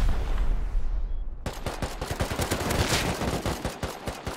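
Rapid bursts of gunfire in the Rust video game during a raid on an icy base, loud and close, sharp repeated shots rattling in quick succession after a rushing noise, with no talk.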